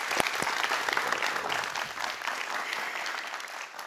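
Studio audience applause on an Indonesian science talk show, a brisk, dense burst of clapping that stays lively and then tapers slightly toward the end.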